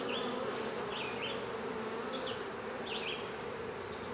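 Honeybees buzz steadily around open hive boxes during a nuc transfer, a dense continuous hum with a few louder individual bees darting close past now and then.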